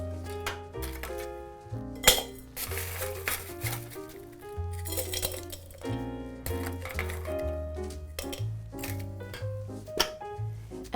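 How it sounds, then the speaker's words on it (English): Ice cubes clink and clatter into a tumbler for a Moscow mule cocktail, a series of irregular sharp knocks and rattles up close. "So we're gonna start off by filling our tumbler with some ice."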